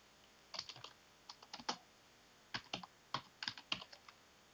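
Keys clatter on a computer keyboard as C code for a leap-year checking program is typed, coming in quick bursts of clicks separated by short pauses, close and fairly quiet, with no voices.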